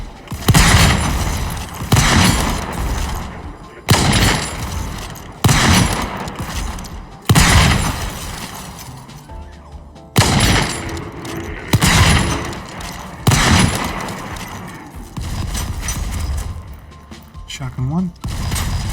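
Shotgun blasts in the survival game Volcanoids, a series of loud booming shots spaced about every second or two, each fading out, with a voice talking over parts of it.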